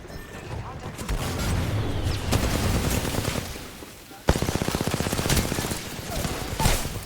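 Rapid automatic gunfire in the video game Apex Legends, with dense bursts that turn into a sharp, evenly spaced stutter of shots partway through, fairly loud throughout.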